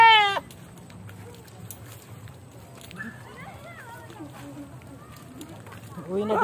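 Goats bleat in short bursts at the start and the end, with a person speaking in between and the animals fairly close.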